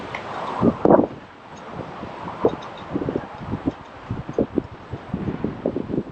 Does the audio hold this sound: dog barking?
no